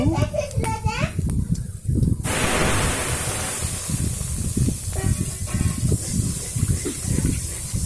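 Panch phoron and ginger-chili paste hit hot oil with a sudden loud, hissing sizzle that keeps going steadily, while voices talk over it.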